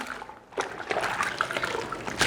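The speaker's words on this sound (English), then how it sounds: "I'm gonna squeeze out the water" Water trickling and dribbling as a wet, soapy towel is wrung out by hand over a basin, a close, continuous splattering that swells in uneven bursts.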